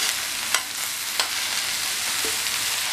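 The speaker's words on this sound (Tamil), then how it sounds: "இதையும் நல்லா வதக்கி விட்டுக்கலாம்." Ridge gourd pieces sautéing in a pan, a steady close sizzle with a few sharp scrapes and taps of stirring.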